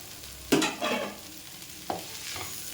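Bottle gourd and peas sautéed in a pan, a few distinct scraping stirs with pauses between them over a faint sizzle, close by and moderately quiet, with no talking.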